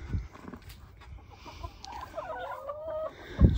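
Chickens and guinea fowl on a farm give soft, scattered clucks and short calls, with a clearer run of bird calls late on and a brief thump near the end, all over a low outdoor background.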